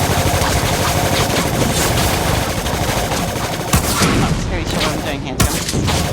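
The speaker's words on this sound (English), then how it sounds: "The guys that are shooting me are apparently using virus the scrambler upload rifle" Rapid, continuous gunfire from scrambler rifles in the Dust 514 game, a dense crackling barrage filling the whole stretch with a couple of louder impacts near the end, with game voice lines mixed in.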